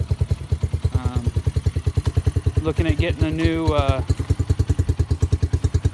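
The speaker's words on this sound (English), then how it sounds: "So I've got the idle set pretty low, but it's just plugging along. It's been idling for about 5 minutes or so." A Yamaha 125 motorcycle engine idles low and steady close by, a regular chugging thump that pulses evenly throughout while someone briefly talks over it in the middle.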